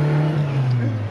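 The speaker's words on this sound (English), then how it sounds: "Find the rev limiter." A KE38 Toyota Corolla engine with twin Weber carburettors runs at high revs near its rev limiter, a loud, close, strained drone that holds steady and wavers slightly in pitch.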